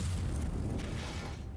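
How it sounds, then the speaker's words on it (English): A small explosion goes off in the video game Warhammer 40k Inquisitor - Martyr: a muffled, rumbling burst of noise that lingers briefly at a moderate level with no voices. "Oh, nice little explosion."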